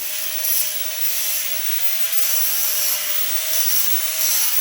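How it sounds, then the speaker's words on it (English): A power grinder works a weld off a steel tailgate latch on a 2016 Karavan trailer, a loud, steady high whine with rough abrasive hiss that pulses slightly as pressure shifts against the metal. "we got to grind a little bit off here because we welded here"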